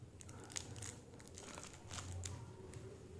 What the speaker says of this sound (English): now let's unwrap the sky lantern